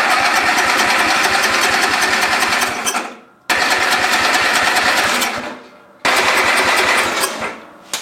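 A small engine cranks rapidly after a dose of starting fluid, three long chattering bursts of fast rhythmic pulses, each cutting off abruptly, loud and close without catching.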